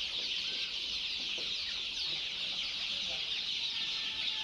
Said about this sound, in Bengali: আবার এই সাইডে কিছু ব্রয়লারও আছে, দেখতে পাচ্ছেন।